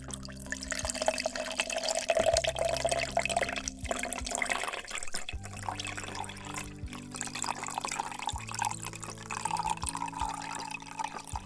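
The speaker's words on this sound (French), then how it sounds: "on va verser" Blue G-Fuel Cadenza energy drink is poured into a container, and the liquid makes a continuous trickling, splashing flow for several seconds, with no voices over it.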